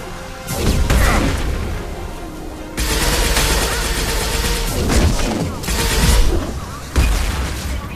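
Heavy gunfire in a video game firefight against Krogan, with loud bursts of rapid shots and booms in several waves separated by short lulls, close and intense.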